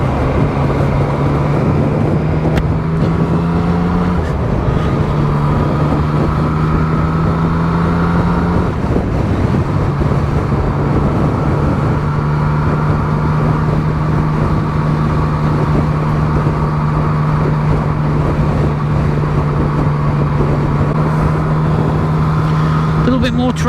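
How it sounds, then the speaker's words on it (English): Road traffic at night in Australia heard from inside a moving car, a steady engine hum and road rumble with passing vehicles swelling and fading, someone talking over it at times. "More traffic around at this time of night."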